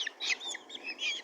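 Caged chickens cluck and chirp briefly at close range, a quick run of soft calls with a hiss of background noise and no talking.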